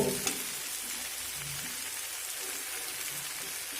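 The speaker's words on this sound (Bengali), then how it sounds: "দেখুন এইভাবে নাড়ব আর অল্প অল্প করে চাউ দিয়ে মিশিয়ে নেব" Paneer chow mein with vegetables sizzling in a pan over high flame, a steady frying hiss with a few soft stirring scrapes, close and continuous with no talking.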